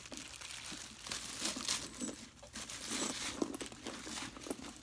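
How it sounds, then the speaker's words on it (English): Plastic wrapping peeled off a purse strap, giving soft, close crinkling and rustling in irregular bursts throughout, faint and with no talking. "So I'm going to take the plastic off."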